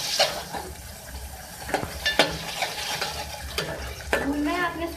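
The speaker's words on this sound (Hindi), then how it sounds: "अच्छी तरीके से इसको भून लें।" Beef in yogurt masala is stirred in a hot pan, giving a soft steady sizzle with several sharp scraping strokes of the spoon against the pan.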